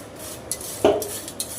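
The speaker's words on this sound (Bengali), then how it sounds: "আমি একটু নেড়ে দিই ঘর ঘর ঘর ঘর ঘর ঘর ঘর ঘর করে।" Food stirred in a pot with a utensil, a few light scrapes and clinks against the metal and one louder scraping stroke in the middle, close by and quiet overall.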